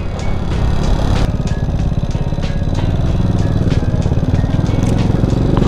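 A Honda EX5 motorcycle rides along a rough road with its small single-cylinder engine close and loud. The exhaust chugs in a rapid, steady rhythm, with sharp clicks and knocks breaking in now and then.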